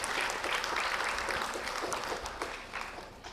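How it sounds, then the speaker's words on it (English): At a conference opening ceremony, an audience breaks into sustained applause, a dense wash of clapping that starts full and slowly tapers off toward the end. "A great round of applause, please."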